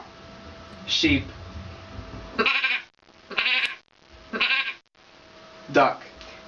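A girl mimics a sheep bleating with a series of four or five short, quavering, nasal calls at close range, each separated by brief gaps.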